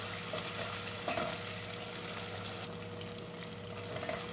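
A teaspoon of butter melting in a pan for an egg pasta dish, a steady soft crackling sizzle with a faint clink or two of a utensil, no talking.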